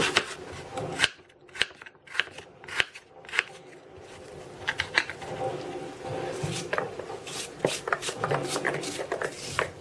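A knife taps and slices against a cutting board as doughnut filling is cut into slices and then small cubes about half a centimetre across. Sharp, irregular chops come in quick bursts, with someone speaking in between.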